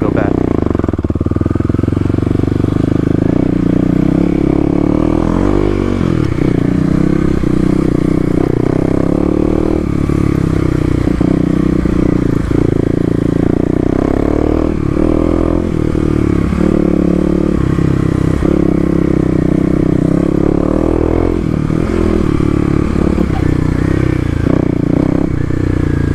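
A Kawasaki KLX250 dirt bike ridden off road at speed across dirt: its single-cylinder engine drones loud and close throughout, rising and falling with throttle, while suspension clatter and gravel scraping break in and a voice talks over it.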